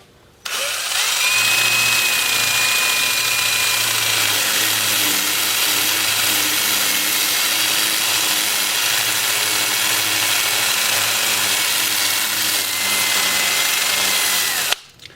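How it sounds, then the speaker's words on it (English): Sandoflex sander working the bark of a mulberry live-edge bowl on a lathe: a steady, loud, continuous mechanical whir with a faint tonal whine that holds for about fifteen seconds, then stops abruptly. "I'll start the sanding with my Sandoflex, and now I can sand the bark and these odd areas"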